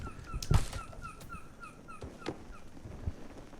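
Dog whimpering in the VR survival game Bootstrap Island, a few sharp close yelps and high whines scattered over a few seconds against quiet background noise.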